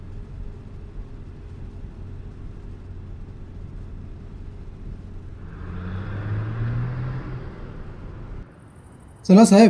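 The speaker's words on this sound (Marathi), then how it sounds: "कार आली." A car pulls up, its low engine rumble swelling and then settling, before someone speaks briefly close by.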